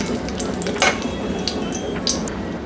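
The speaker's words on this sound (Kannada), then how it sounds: "ಒಂದು ಪ್ಯಾನ್ಗೆ ಒಂದು ಸ್ವಲ್ಪ ಎಣ್ಣೆ ಹಾಕ್ಕೊಂಡು ಅದಕ್ಕೆ 4 ಒಣಗಿದ ಮೆಣಸಿನ್ಕಾಯಿನ ಹಾಕ್ತಾ ಇದ್ದೀನಿ" Dried red chillies frying in a little oil in a pan make a continuous bubbling sizzle, with a few brief metallic scrapes over it.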